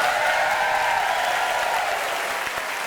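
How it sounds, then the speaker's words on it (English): An audience at a live stage show applauds a contestant's basket, a dense, steady wash of clapping that holds at full strength from start to finish. "round of applause for Joe's basket"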